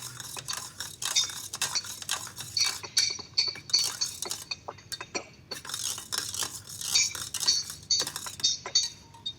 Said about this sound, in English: just give it a nice stir until we're sure that the honey is totally, incorporated and dissolved